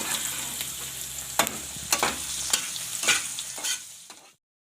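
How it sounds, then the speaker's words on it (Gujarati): Gunda sambharo sizzles in a hot pan, a steady frying hiss punctuated by about six sharp scraping stirs of a spoon against the pan, close and alone before stopping abruptly. "હવે આના સરસથી આપણે શેડવી લઈશું"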